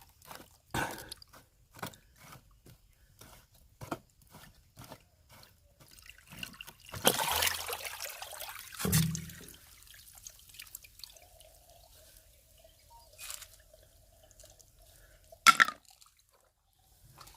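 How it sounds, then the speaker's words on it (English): Dirty rainwater flushes out of a first-rain separator fed by a tin roof drain: sparse close drips and trickles, with one brief louder gush of water partway through, quiet overall. "So that is how you flush the dirty water."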